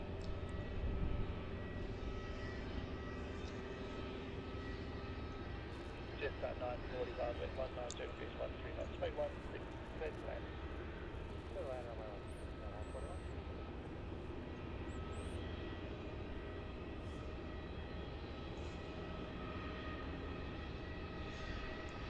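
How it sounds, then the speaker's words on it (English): Airliner jet engines whine and rumble across Melbourne Airport while a 747 pushes back, a steady distant roar running throughout with a voice talking over it. "There's that 747 pushing back there."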